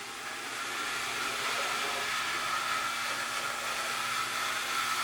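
An Athearn Southern Pacific model locomotive motor, its rubber motor mounts missing, runs with a steady whirring hum and a faint whine, close and continuous.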